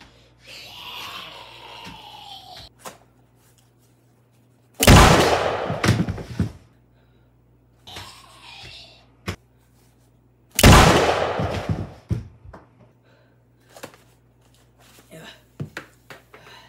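Two loud, sharp shotgun blasts from a cardboard double-barrel gun in a short film, each with a booming decay, spaced several seconds apart, between quieter movement sounds and softer thuds, with people speaking in the gaps.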